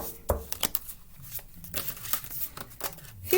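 An oversized tarot deck is shuffled by hand, giving soft papery riffles and taps in quick irregular bursts, close and fairly quiet with no talk.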